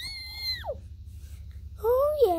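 A boy lets out high, piercing screams that bend downward. There are two separate shrieks with a short quiet gap between them, loud and close over a low steady hum.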